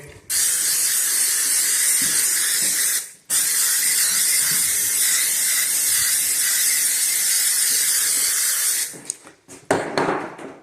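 Steady hissing spray onto drywall runs for several seconds, pauses briefly, then resumes before trailing off into a few short bursts and clicks.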